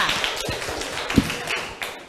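Children clapping their hands in a classroom, a loose scatter of light claps and taps with one sharper clap near the middle, fairly close and without talk.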